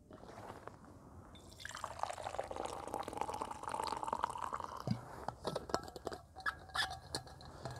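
Coffee pours from a Stanley thermos outdoors at night at Titchfield Haven. A quiet, close trickle rises in pitch as the cup fills, followed by scattered drips, clinks and light handling noises.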